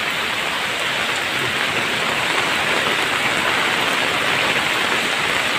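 Heavy typhoon rain pours down in a dense, constant roar, close and loud, drumming on surfaces without letting up, with flooding nearby.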